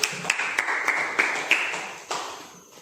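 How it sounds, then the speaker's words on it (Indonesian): A small classroom audience at a vocational school milling-machine micro-teaching session claps for a student, a short run of distinct, fairly faint claps that fades out. "Kita beri tepuk tangan dulu untuk Taris."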